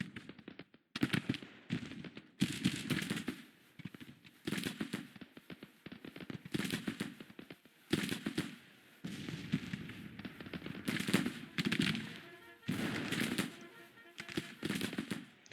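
Musket volleys in a Civil War battle from the strategy game Grand Tactician, repeated bursts of crackling gunfire separated by short gaps, dense and rolling, fairly loud.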